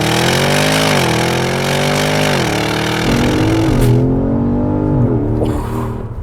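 A 2019 Porsche Cayenne Turbo launching from a performance start, its engine roaring loud and close as it climbs through the revs, with a gear change partway through and the note easing off near the end.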